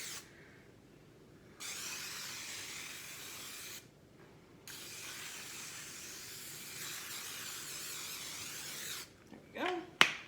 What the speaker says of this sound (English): we're gonna spray it with a little bit of cooking spray.